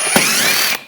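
A ratchet with a 10mm socket clicks rapidly for under a second while removing shield bolts from a Buick Encore engine bay, close and crisp with no talk.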